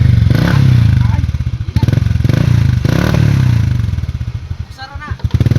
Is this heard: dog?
no